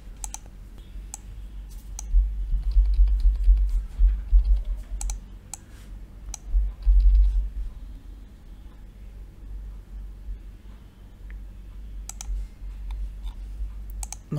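Irregular clicks of typing on a computer keyboard, light and close, over a low rumbling hum that swells and fades.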